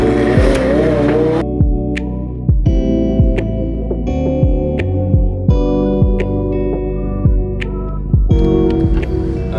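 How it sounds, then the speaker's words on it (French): A McLaren 720S engine hums loudly and steadily while driving, with rising and falling harmonics, punctuated by sharp repeated thumps and clicks, with soft music-like tones over the drone. "il faut profiter un peu du bruit de cette voiture"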